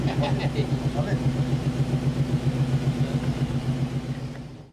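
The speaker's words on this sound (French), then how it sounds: "Patrick et José ont décidé de sortir leur voiture et tentent de traverser ce fossé." A 4x4 trial car engine idles and revs unevenly as it tries to cross a ditch, a steady mid-pitched chug sounding close, with talk running over it throughout.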